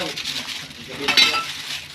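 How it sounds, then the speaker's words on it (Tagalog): Water boiling in a pot for pancit bato noodles bubbles and sizzles steadily up close, with a soft hiss and occasional clinks of kitchen utensils. "Ayan, kumukulo na."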